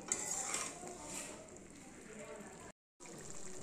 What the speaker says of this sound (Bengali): এবার এই মশলাটার ভিতরে চিকেনটাকে দিয়ে ভালো করে কষিয়ে নেব।